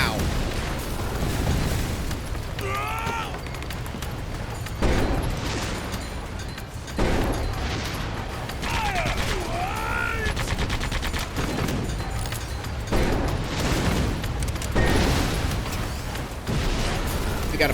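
High explosives go off in the video game Sand Land, with dense bursts of booms and gunfire-like pops repeating throughout, loud and continuous, while a voice talks over the action.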